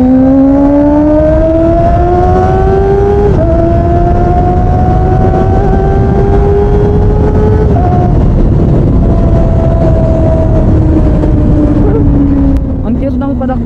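A Kawasaki ZX25R motorcycle engine screams at high RPM on a Manila expressway, a loud, steady, high-pitched whine that shifts pitch between gears, with a voice talking over it.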